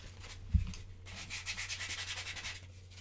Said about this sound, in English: I'm gonna have to sand down the body a bit.